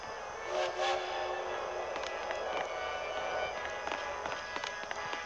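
A video game train rumbles and clatters past with steady mechanical noise and a sustained high whine, fairly loud and continuous throughout.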